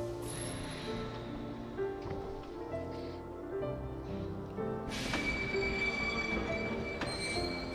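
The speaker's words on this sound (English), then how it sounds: "Let's take the choo-choo train." A train in the video game Kingdom Hearts rolls along steadily, its wheels squealing and screeching, with a loud metallic screech near the end. No one speaks over it.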